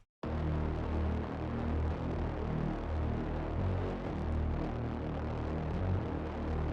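Bass house synth patch built from three detuned saw oscillators, an LFO sweeping the waveform for movement; a dense, loud, sustained low buzzing drone that throbs and shifts steadily, heard alone after a brief silent start.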